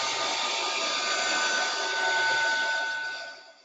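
A heat tool blows steadily at close range while melting embossing powder in a papercraft project, a loud continuous hot-air whoosh that fades out at the end.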